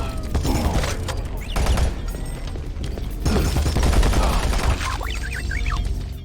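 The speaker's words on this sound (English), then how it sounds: "some gun sounds sound like you're shooting air pellets" Weapons firing in the video game Doom 3 BFG Edition, thin, light shots like air pellets in several bursts over about six seconds, with mechanical clicks and reloading sounds between volleys.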